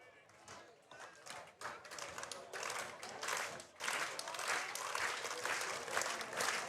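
Baseball fans at a Chinese Taipei versus Italy game cheer and clap as Italy is down to its final strike, applause building from scattered claps into a dense, loud roar.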